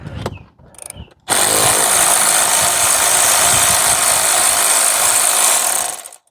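An electric ratchet spins out 10mm bolts on a 2022 Nissan Frontier during an air intake install: a few soft handling clicks, then a loud, close, continuous motorized whir that holds steady for about five seconds before cutting off.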